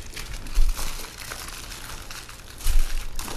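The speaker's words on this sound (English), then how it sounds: "Just want to kind of seal the foil." Aluminium foil is crumpled and pressed shut around a salmon fillet, giving close crinkling rustles with two louder scrunches a couple of seconds apart and no talk.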